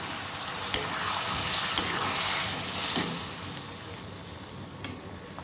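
Tomato puree made from four medium tomatoes for channa masala bubbles and sizzles steadily in a pan, a soft continuous hiss with a few small pops and stirring scrapes, close and fairly quiet, no talk.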